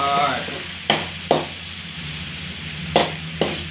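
Rat meat being stir-fried with holy basil paste in a pan, with a steady sizzle and a few sharp spatula scrapes against the metal, close and clear with no talking.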